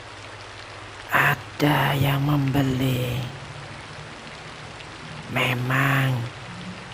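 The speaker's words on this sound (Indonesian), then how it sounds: "suasana hujan dan adem" Rain falling during a story scene, a steady hiss of rainfall throughout, with someone narrating over it in short bursts.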